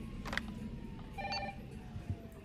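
Telephone ringing in the video game Resident Evil 3, a faint, brief electronic ring tone heard once amid low background noise.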